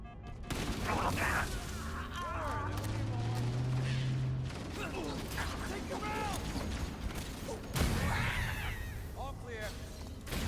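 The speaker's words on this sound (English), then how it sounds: "You're shooting me!" Dense game combat from the Halo Campaign Evolved campaign on Xbox Series X, with rapid weapon fire and mechanical clatter running steadily under layered character voices and music, a louder burst near the end.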